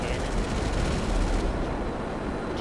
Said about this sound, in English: Or if I decide to, I can use my cannon,